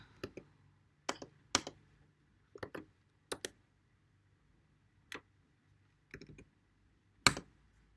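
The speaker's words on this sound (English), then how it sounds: "let's type a PIN code" A PIN code is typed on a computer keyboard as a series of crisp, close key clicks. Some come in quick pairs and others stand alone, separated by short pauses, against a quiet background with no talk.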